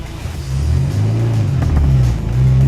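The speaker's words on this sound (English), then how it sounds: "bit of wheel spin" A car launching on a cone course with some wheel spin, a loud close engine revving and rumbling as it pulls away, with no talk over it.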